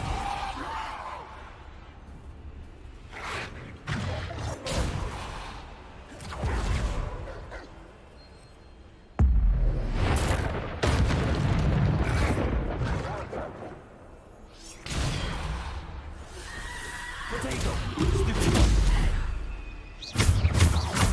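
Spell effects cast in the Hogwarts Legacy video game: Descendo, Bombarda and Depulsor, heard as repeated whooshing bursts and heavy impacts with loud broadband swells, under someone talking and calling out spell names.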